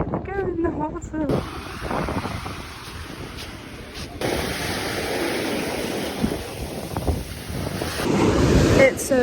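Sea waves wash in and out on a cold, blustery beach while gusts of wind buffet the microphone loudly, with the roar swelling and easing in rough surges.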